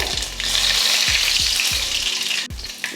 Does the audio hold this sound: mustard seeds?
yes